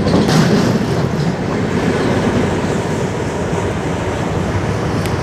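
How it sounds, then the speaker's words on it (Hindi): A train rumbles past close by, with a continuous loud roar of rolling wheels and rattling carriages lasting the whole stretch. "तो अब हम चलेंगे, ये ट्रेन निकल जाए, इसके बाद जगह खाली होने के बाद"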